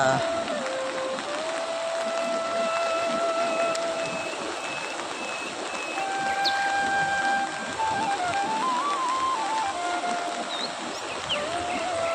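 Floodwater from a heavily rain-swollen river in Konkan rushes under a bridge in a loud, constant roar, while people talk over it.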